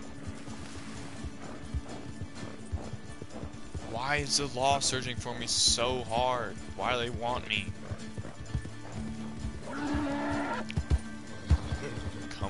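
Horse hooves clip-clop steadily through a Red Dead Redemption II game scene, with a voice speaking over them and the animal sounding close throughout.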